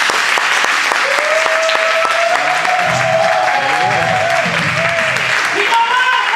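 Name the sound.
congregation clapping hands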